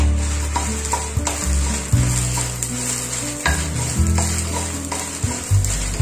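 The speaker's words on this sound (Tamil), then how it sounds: "அதுக்கப்புறம் வந்து மிளகாய் போட்டு வறுத்துக்கலாம்" Dried red chillies fry in hot oil for idli milagai podi, giving a loud, steady sizzle with stirring scrapes running throughout and no talking.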